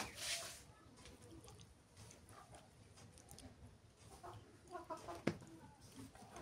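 Ten chickens, five chicks and five grown hens, cluck softly while pecking at cooked rice, faint and scattered with brief sharper calls near the end.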